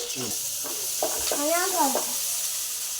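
Crushed shallots fry in hot oil in a wok with a bright, steady sizzle close by, while a voice speaks over it.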